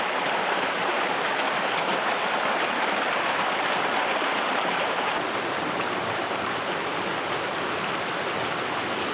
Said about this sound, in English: Little waterfall coming down into a pool.